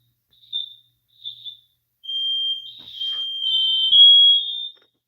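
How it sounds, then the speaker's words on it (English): A smoke alarm sounds two short shrill beeps, then a sustained piercing tone that holds for a few seconds before cutting off, loud and close in an otherwise quiet room. "The alarm's going off."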